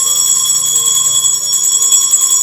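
Small ritual bell rung in a botanica spiritual ceremony, a bright, sustained metallic ringing with shimmering high overtones, loud and continuous throughout.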